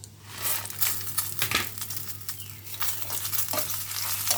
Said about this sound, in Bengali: আমি এটা উঠায় নিয়ে এই তাওয়াতে ঝাল ভেজে নেব